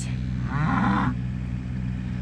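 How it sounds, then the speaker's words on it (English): A cow on a farm lets out one drawn-out, loud moo close by, rising and fading over about half a second against a steady low background hum. "The cows are fussing at me."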